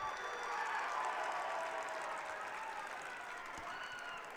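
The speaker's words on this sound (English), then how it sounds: "I don't see any other reason why Varsity Gym would clap all of a sudden" A crowd in Varsity Gym applauds during a college wrestling match, steady, even clapping filling the hall throughout, somewhat distant and moderately loud.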